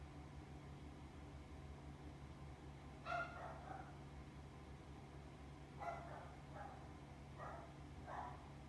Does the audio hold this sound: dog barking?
yes